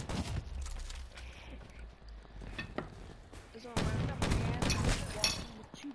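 Gunfire in the multiplayer video game Call of Duty: Black Ops 4, with loud bursts of shots and impacts clustered near the end, mixed over game ambience and a speaking voice.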